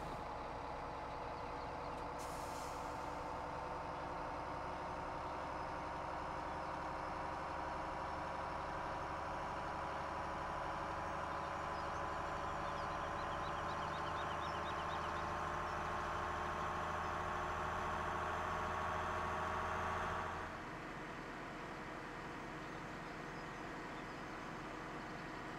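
Truck engine in the farming video game Farming Simulator 17, a loud steady idling drone with a slowly rising tone that runs without talk before cutting down to a quieter rumble near the end.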